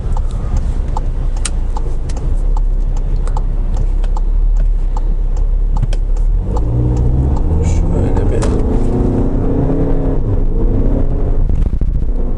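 A Skoda Superb 2.0 TDI with 190 PS and a DSG gearbox accelerates hard, a loud cabin drone of diesel engine and road rumble that rises in pitch through gear changes in the second half.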